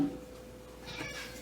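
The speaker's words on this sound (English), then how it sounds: "gotta have the cat crying at my feet." A cat meows plaintively at someone's feet in a home kitchen, one drawn-out cry rising near the end, close and fairly soft.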